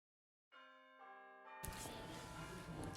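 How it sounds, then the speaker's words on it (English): Church bells ring out with sustained, overlapping tones that swell as more strikes join in, building into a dense, continuous peal at moderate distance. "Are those church bells?"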